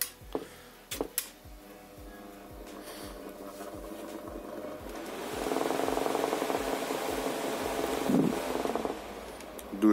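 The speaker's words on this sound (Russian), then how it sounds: "закрепить сам вентилятор, настроить определенную скорость и просто дистанционно его" Homemade remote-controlled YAM-801 garage fan running with a steady whir, accompanied by a regular mechanical ticking that gives way to a louder, fuller airflow roar partway through.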